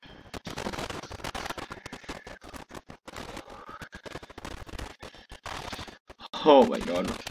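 Rifle fire from soldiers in the World War I game Tannenberg cracks repeatedly as dense scattered shots, with a louder burst near the end, and a voice talks over part of it.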